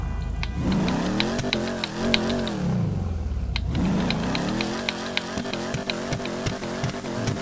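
A Hotknife car driving in GTA 5 Online, its engine revving up and down in repeated swells, with sharp clicks and a brief tire squeal. The engine stays loud and close the whole time.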